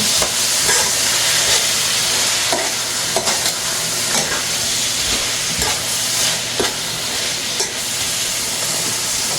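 Saltfish frying in a hot pan for ackee and saltfish, a loud dense sizzle and hiss with intermittent stirring scrapes, steady throughout with no voices.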